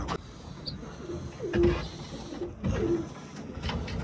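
Domestic pigeons cooing close by in a loft with eggs and chicks, two or three low throaty coos rising over soft rustling and background noise.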